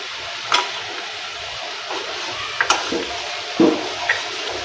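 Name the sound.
tomatoes added to frying onions in pan, sizzling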